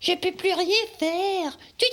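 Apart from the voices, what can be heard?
None of the usual background noises is heard.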